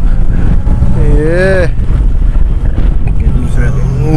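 A 1996 Fiat Padmini with a four-cylinder engine pulls away in first gear, its engine drone loud and close with wind buffeting the microphone, and a rising whine as it accelerates.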